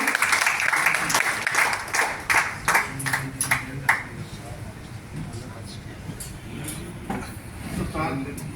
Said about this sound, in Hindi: उनका भी जोरदार तालियों से स्वागत करें